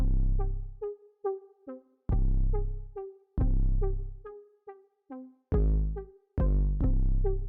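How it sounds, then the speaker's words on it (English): Deep booming 808 bass notes programmed in an FL Studio piano roll in a simple pattern, each hit sustaining and sliding between pitches, with lighter melodic notes above. "Now go to your piano roll and create a simple 808 pattern."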